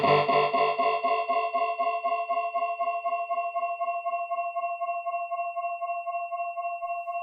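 A synthesized tone through the Acustica Expanse 5 delay repeats in rapid echoes that smear into a sustained, ringing drone, the repeats fading as a bright resonance lingers.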